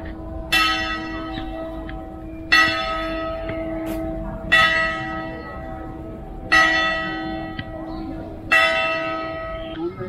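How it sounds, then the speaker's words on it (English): A church bell in Puerto de la Cruz, Tenerife, rings out in five evenly spaced strikes, each ringing on and fading, with a steady hum and faint voices in the background. "I like the sound of the bell."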